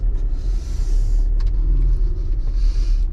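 A micro campervan's engine rumbles low and steady as it pulls away, a close, loud drone with faint higher road noise on top.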